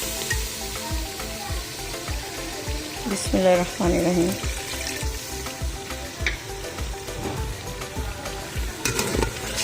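Tomatoes and masala frying in a pot for beef trotters, a steady low sizzle with scraping stirs and occasional clinks, while a voice speaks briefly over it.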